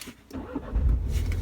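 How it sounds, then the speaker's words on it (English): A 2015 MINI Cooper S engine cranks and fires up, settling into a steady low idle rumble close by, with no talking. "So that starts the car."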